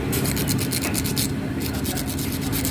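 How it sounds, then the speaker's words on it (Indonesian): Steady, close scratchy rubbing repeats in quick strokes as sandpaper is worked back and forth over a small metal switch contact on a Yamaha NMAX scooter's starter. "Jangan lupa juga amplas di bagian pirnya ini."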